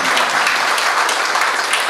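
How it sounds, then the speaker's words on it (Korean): A wedding-ceremony audience applauds at a joint wedding, a dense, even roar of many hands clapping that holds steady and loud throughout, with no voices over it. "박수 부탁드립니다"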